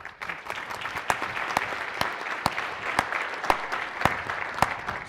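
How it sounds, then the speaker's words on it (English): An audience at a renewable cities global learning forum panel applauds Deborah Harford of Simon Fraser University, a steady dense round of clapping with sharp individual claps standing out, sustained evenly for several seconds. "So please, a warm applause for Deborah Harford."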